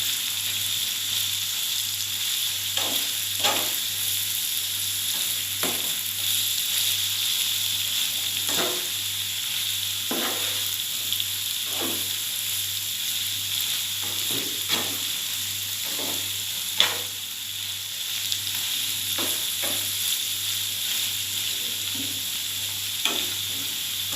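Chayote stir-fried with salted fish sizzles steadily in a pan, with repeated scraping strokes of a spatula stirring it at an uneven pace; close and continuous, with no voices.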